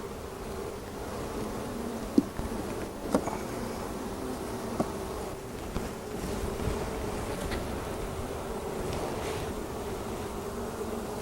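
A dense, steady drone of honey bees fills the air as a hive is opened for inspection, with the comb frames sealed together by propolis; a few faint knocks and clicks from handling the frames sound over the buzzing.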